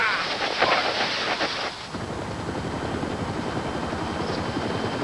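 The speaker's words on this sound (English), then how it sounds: "And then I recognized the helicopter. It was a large NATO helicopter" A large NATO military helicopter's rotor thuds in a rapid, steady beat, loud and fairly close, with a rushing burst of wind noise in the first two seconds.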